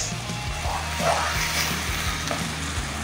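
Sweet and spicy sauce is stirred in a pan over heat, with a soft sizzling bubble and the scrape of a spoon moving through it, close and continuous.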